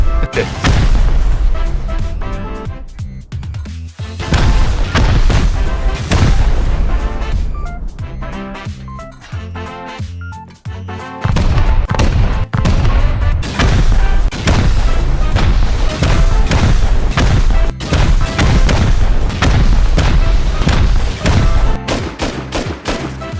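Repeated loud blasts from high velocity rockets hitting a high-quality metal base during a raid in the video game Rust, dense booming detonations with gunfire-like cracks filling nearly the whole stretch with only a few brief lulls.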